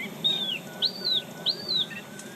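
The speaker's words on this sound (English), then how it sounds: "Each year, listening devices collect tens of thousands of hours of birdsong" Three clear, high-pitched bird calls ring out from the Austrian national park wetlands, each a quick rising-and-falling whistled phrase, evenly spaced over a faint steady background hiss.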